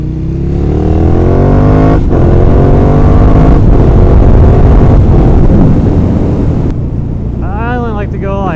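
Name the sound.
2012 Ducati Monster 1100 EVO motorcycle accelerating in second gear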